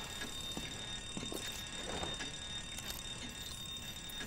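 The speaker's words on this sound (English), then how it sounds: "Why did the alarm ring?" A bank alarm in Batman Arkham Origins rings steadily for the whole stretch, a continuous electronic tone under a busy game-world background, with no talking.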